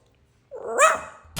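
A person imitating a dog with a single short, loud bark-like yelp, alone and close.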